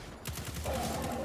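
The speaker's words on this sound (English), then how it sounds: "we're just going to keep using our cannon on the boss" A cannon in the Destiny video game fires at a boss in a rapid burst of repeated low blasts, loud and continuous, with no voices.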